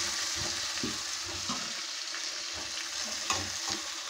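Chillies, tomato, ginger and garlic fry in a pan over a low flame, giving a steady close sizzle with a few soft stirring knocks. No one speaks.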